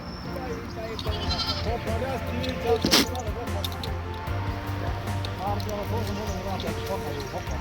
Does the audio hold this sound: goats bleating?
yes